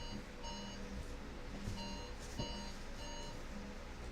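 A phone alarm beeps in a steady repeating pattern of short tones, moderately faint beneath a busy background of noise, with no voices during the beeping.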